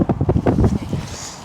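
Strong wind gusts across an outdoor fishing bank during feeder fishing, a loud buffeting rumble that booms through the first second, then eases to a steadier, fainter rush of noise.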